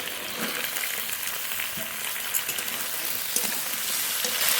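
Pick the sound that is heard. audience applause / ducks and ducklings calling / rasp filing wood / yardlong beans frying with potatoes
yardlong beans frying with potatoes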